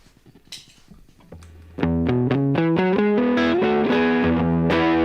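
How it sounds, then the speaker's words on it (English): Fuzzy, distorted electric guitar played through a fuzz pedal into a clean amp, a few scratchy strums before sustained, saturated notes ring out loudly. "let's hear what that fuzz sounds like straight into a clean amp."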